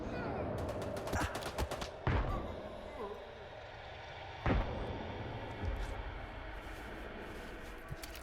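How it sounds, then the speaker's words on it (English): Grenade explosions and gunfire in the video game S.T.A.L.K.E.R. 2: Heart of Chornobyl: a few sharp, heavy blasts and scattered shots stand out over a steady rumbling battle backdrop. "Let's just chuck some grenades his way."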